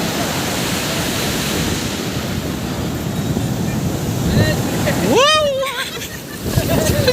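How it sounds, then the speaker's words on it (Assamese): Sea waves wash onto the Odisha shore at night in a steady, close surf roar, with wind buffeting the microphone and a brief voice rising near the end. "আৰু এই সাগৰ ঢৌ,"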